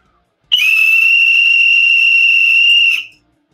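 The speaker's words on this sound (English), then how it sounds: "So let me give this whistle a try here." A loud, piercing survival whistle blown in one steady, shrill blast lasting about two and a half seconds, then cutting off.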